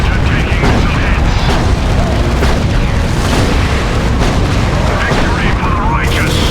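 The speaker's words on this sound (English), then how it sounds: "Predator taking missile hits." Missile strikes and explosions battering a Predator tank in Warhammer 40,000: Dawn of War 2 Chaos Rising, a dense, loud, continuous barrage of booms and blasts in the middle of battle.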